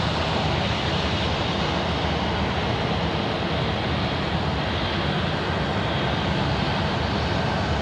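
Emirates airliner departing Sydney Airport, a loud continuous jet engine roar filling the scene at a steady level, broad and rumbling, with no talk.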